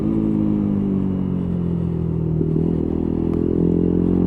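A Lexmoto Tempest motorcycle engine drones steadily and loudly while being ridden, its tone easing slightly as the throttle rolls off, with no talking.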